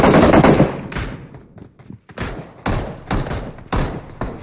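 Gunfire in the PUBG Mobile video game: a loud opening burst, then a pause and several sharp, close rapid bursts of automatic fire in an uneven rhythm.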